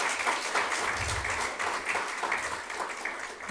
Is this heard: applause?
yes